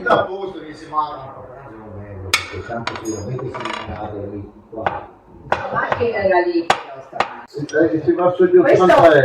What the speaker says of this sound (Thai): กุ้งนะคะ เดี๋ยวจะหั่นเป็นชิ้นๆ